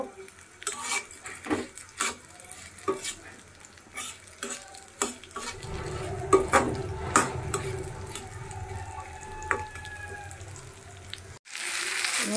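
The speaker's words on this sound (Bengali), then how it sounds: "পেঁয়াজ, কাঁচামরিচ, তেজপাতা, গোলমরিচ এগুলো ভাজা হয়ে গেছে।" Onion, green chili, bay leaf and black pepper frying in a pan, with a soft sizzle and repeated scraping stirs of a spatula against metal, no talking.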